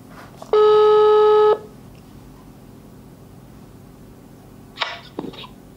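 A single steady electronic telephone ringing tone sounds once for about a second, followed by quiet, then a brief faint rustle.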